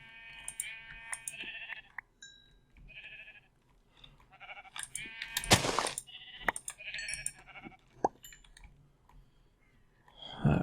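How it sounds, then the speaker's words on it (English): Sheep bleat in a survival video game, several wavering cries spread across the stretch, mixed with computer keyboard typing and mouse clicks and a few sharp game effects. "This world apparently has sheep,"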